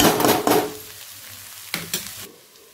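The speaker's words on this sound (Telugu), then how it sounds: "ఇప్పుడైతే మనం సిమ్లో పెట్టుకొని మధ్య మధ్యలో కలుపుతూ కాస్త ఉడకాలి." Eggplant curry simmers on low heat in a pan, with a couple of bursts of stirring and scraping over a soft background sizzle, close and fairly loud.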